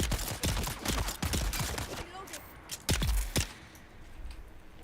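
Rapid, close shots from a makeshift weapon in the video game Dune Awakening, a quick volley of cracks that pauses, then a couple more loud shots.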